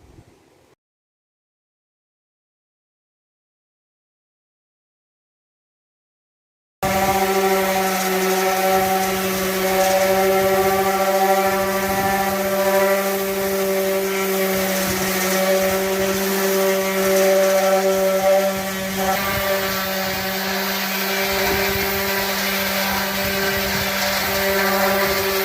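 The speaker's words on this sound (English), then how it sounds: "So now we got to sand the bumper" Power sander working over a vehicle bumper end cap, a steady, loud droning whir with a constant tone running continuously after a silent opening, close to the microphone and without talk.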